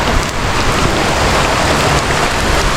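Heavy rain pours down loud and close, a dense, unbroken hiss of drops hitting surfaces that holds steady throughout with no pauses.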